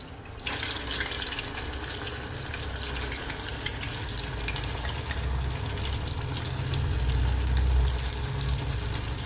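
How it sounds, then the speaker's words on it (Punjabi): Potato French fries frying in hot oil in a home kitchen, a loud, steady, close bubbling hiss that runs unbroken and swells slightly near the end, with no voices. "ਹੁਣ ਅਗਲਾ ਸਟੈਪ ਆਪਾਂ ਇਹਨੂੰ ਫਰਾਈ ਕਰਾਂਗੇ"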